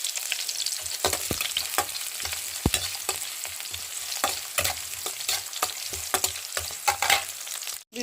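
Green chillies being stirred as they fry in a pan, with a steady sizzle and repeated scraping strokes of the spoon at close range, and no talking.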